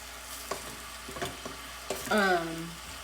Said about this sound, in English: Okay, so I just wanted to saute that.